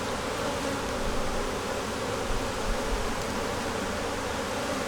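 Honeybees from a beekeeper's own hive swarm close by in a dense, steady buzz that holds without a break, with no voices over it.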